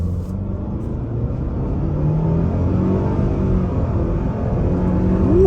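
A 2023 Mitsubishi Outlander SEL Black Edition accelerating hard from a standstill, heard from inside as a steady engine drone that rises in pitch and builds over several seconds.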